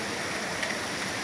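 Rain falls in Khilgaon, Dhaka as a loud, steady, dense hiss for a brief moment, with no other sounds standing out.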